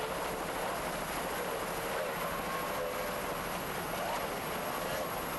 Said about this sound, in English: making those engines sound excellent